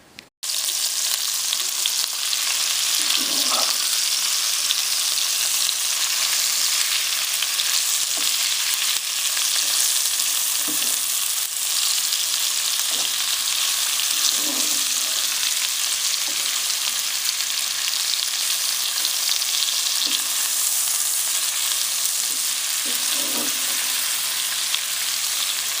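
Beef stew meat browning in a pan on a wood stove, a steady loud sizzle of frying running throughout with occasional soft stirring knocks.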